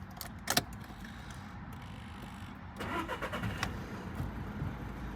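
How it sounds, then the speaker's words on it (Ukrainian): A 2012 Volkswagen Golf VI with a six-speed manual starts up: a brief starter crank catches and the engine fires, settling into a steady run, heard from close by with no talk. "Пробуємо завести."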